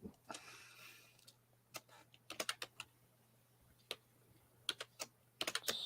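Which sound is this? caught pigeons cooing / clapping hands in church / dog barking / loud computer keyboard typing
loud computer keyboard typing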